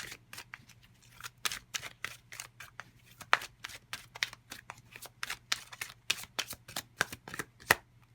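Tarot cards being shuffled by hand in a quiet room, a rapid run of crisp riffling flicks and slaps, close and fairly soft, with a faint low hum underneath.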